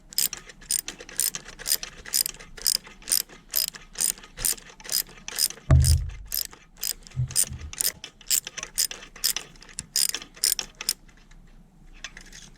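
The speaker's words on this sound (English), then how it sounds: "Now what we're going to do is tighten the nut." A ratchet wrench tightening a nut during installation of an iTroll fit kit onto a throttle rod, with a steady run of crisp, close clicking strokes, about two per second, broken once by a dull low thump.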